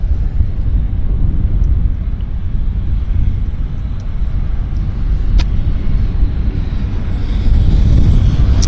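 Aircraft departing at Vancouver Airport, heard as a loud, steady low jet rumble with wind buffeting on the microphone and no voices.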